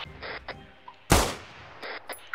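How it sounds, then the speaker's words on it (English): A single loud video game gunshot cracks out midway, sharp and close, with faint scattered clicks and soft noises around it. "Gunshot south."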